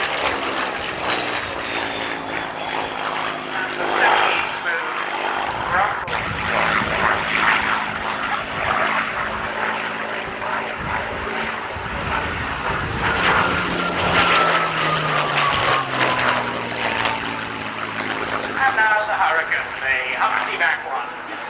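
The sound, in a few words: vertical takeoff fighter jets flying at airshow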